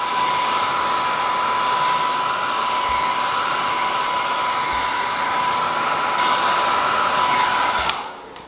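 Steady, loud blowing roar of a heat gun warming leftover badge adhesive on a Subaru WRX STI, with a constant whine running throughout before it cuts off near the end; no talking.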